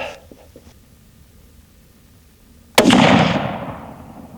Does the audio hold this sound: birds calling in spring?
no